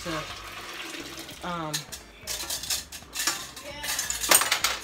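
Hot water poured off canning lids and bands in a pot, with metallic clinks of lids and bands against the pot, splashes and sink-like trickling, moderately close and intermittent.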